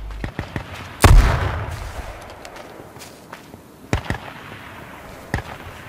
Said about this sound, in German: Oh, die schießen auf mich.